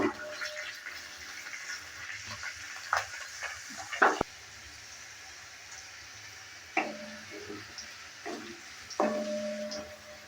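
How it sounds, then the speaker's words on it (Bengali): Beans being stir-fried in a pan for basmati fried rice give a soft, quiet sizzle broken by intermittent scraping stirs of a spatula, some sharp and close. "নেড়ে চেড়ে নিয়ে হালকা একটু ভেজে নেব"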